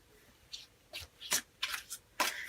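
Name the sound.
shuffling tarot cards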